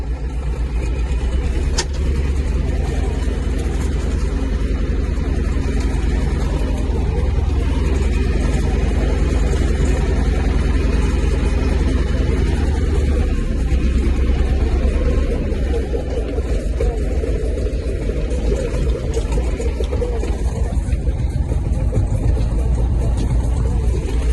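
A T25 tractor engine runs steadily in low gear while ploughing a field with a plough, a continuous low diesel rumble and drone that stays close and even throughout.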